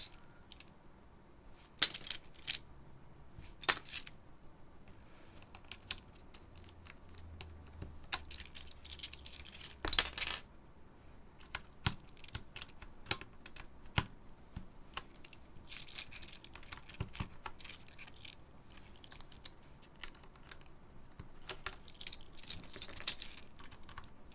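Alps keycaps are pressed onto a keyboard with scattered sharp plastic clicks and clacks at irregular intervals, close and fairly quiet, with some louder snaps between softer fiddling sounds.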